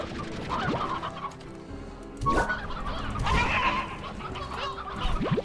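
Chickens cluck and squawk in Slime Rancher as normal chickens are fired off in quick succession, several short bird calls over a busy game soundscape with no talking.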